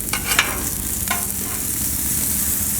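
Hot dogs searing on a Blackstone griddle give a steady, close hiss of sizzling fat throughout, with a few light scraping clicks from turning them near the start and no talk.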